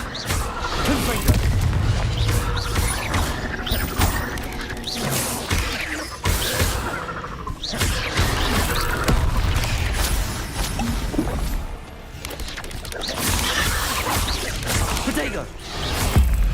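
Repeated Confringo blasting-spell explosions erupt during Hogwarts Legacy combat, loud booms, whooshes and crashes piling up one after another, with voices talking over the fight.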